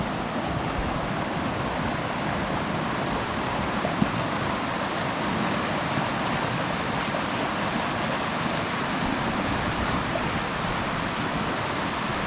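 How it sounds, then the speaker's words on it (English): Colorado mountain river flowing steadily, a dense unbroken rush of water close by, loud and even like white noise with no voices. "But this river is absolutely perfect."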